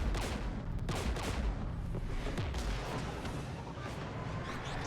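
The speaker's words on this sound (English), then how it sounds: "We're taking fire." Dense gunfire and heavy blasts fill a combat scene in the video game Mass Effect 3, a loud continuous barrage of overlapping shots and booms with no clear pauses.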